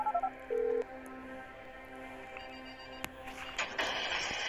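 Phone dialing in the mobile version of GTA 5, a short run of keypad tones followed by a steady electronic tone, close and clear over a quiet game background.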